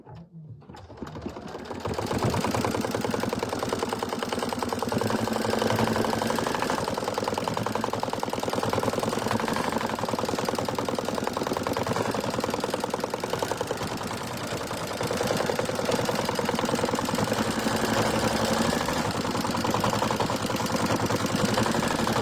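An embroidery machine stitches a tack-down line over jelly vinyl, a steady rapid mechanical whirring and clatter that starts after a brief pause and runs continuously, close and even.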